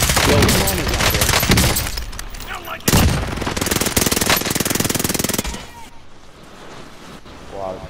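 Video game gunfire rattles in dense, loud bursts, with a sharp new volley near the three-second mark before it thins out to a quieter background, while a voice talks over it.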